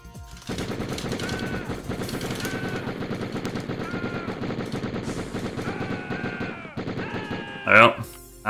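Rapid, continuous gunfire from the video game Die Hard Trilogy rattles in a steady stream of closely spaced shots, joined by game tones and a short loud burst near the end.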